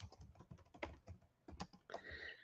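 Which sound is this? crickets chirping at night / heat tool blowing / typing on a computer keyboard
typing on a computer keyboard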